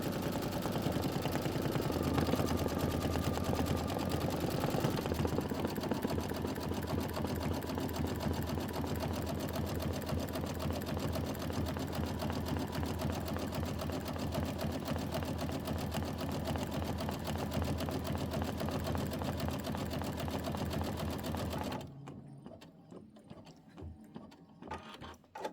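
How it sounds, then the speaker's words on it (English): Sewing machine running steadily while stitching Kimberbell quilt blocks, a loud continuous mechanical whir that holds for about twenty seconds before stopping abruptly. "we're going to stitch this and then we're going to stitch the logs"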